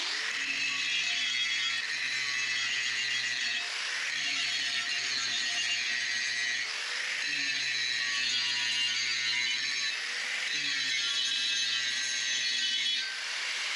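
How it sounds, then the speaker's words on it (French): Angle grinder cleaning metal before welding while building a bike rack for a tractor: a steady harsh whine runs in about four repeated passes, each fading briefly before the next. "Un petit coup de disqueuse."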